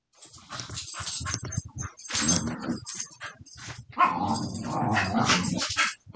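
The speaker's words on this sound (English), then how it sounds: "The dogs are playing." Dogs play together with bursts of barking, yips, growls and whimpers, fairly close and lively, in clustered bouts with short pauses between them.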